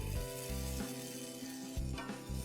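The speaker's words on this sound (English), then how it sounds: "Let the tomatoes cook for 2 to 3 minutes." Tomato puree cooking in a pan with green chillies, giving a steady low sizzle with a few stirring scrapes, close and moderately quiet with no talking over it.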